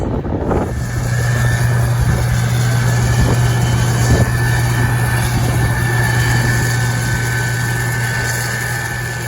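A John Deere 8000 series tractor pulls a grain cart through a soybean field at harvest. Its engine makes a constant low drone with a steady hum, and wind buffets the microphone. No one speaks.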